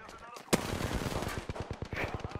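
Rapid gunfire in the video game Apex Legends, a close burst of repeated sharp shots in an even automatic rhythm that runs through most of the clip, with a voice talking over it.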